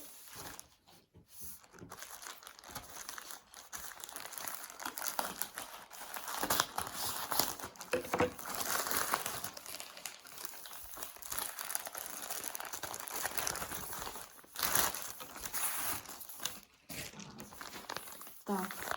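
Parcels of diamond painting and embroidery kits are torn open by hand, with continuous close crinkling, rustling and ripping of packaging plastic throughout.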